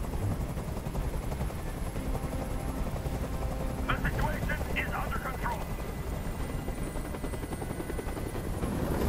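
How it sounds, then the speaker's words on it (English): A helicopter hovers overhead during a hostage standoff, its rotor a loud, continuous throbbing roar that covers everything, while someone shouts over it and brief sharp bursts cut through midway. "Tell that helicopter to get out of here!"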